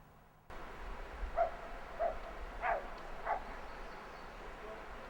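A person imitates a dog barking, giving four evenly spaced soft woof sounds over a low background hum, fairly faint and distant.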